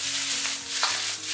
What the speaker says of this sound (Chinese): 再把五花肉倒进来， 开中火给它慢慢的煸炒，煸炒出里面多余的肥油